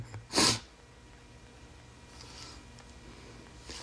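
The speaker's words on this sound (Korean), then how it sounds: "누가 재채기했는데 엄마입니다." A mother gives a single sharp sneeze in a kitchen. The burst is close and loud, followed by a quiet indoor room with faint background sounds.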